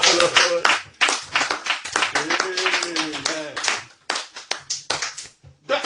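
A church congregation claps loudly and rhythmically in quick bursts while voices call out and acclaim over the clapping.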